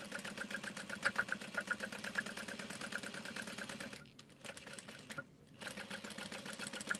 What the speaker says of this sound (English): then you'll fold it in half on itself and top stitch around all four sides.